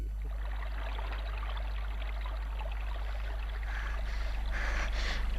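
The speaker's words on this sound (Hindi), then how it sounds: "रुको रुको राघव, जरा देर इस झरने के पास बैठो ना।" A steady rush of falling water, continuous and moderately loud, with no voices.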